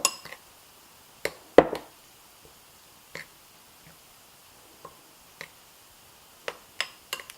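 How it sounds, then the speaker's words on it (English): Thawed, drained corn being stirred into a raw vegan corn chowder. Sparse, sharp clinks of a utensil against a bowl come at irregular intervals, close and fairly quiet, over near silence. "mix the corn in."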